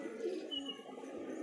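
Pigeons sunning their wings give low, soft cooing calls, close and continuous for a second and a half, with a faint higher chirp in the background and no speech.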